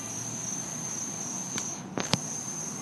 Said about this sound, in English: I even hear the crickets, folks.